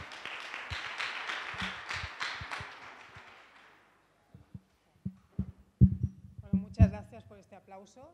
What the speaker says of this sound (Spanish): muchas gracias por este aplauso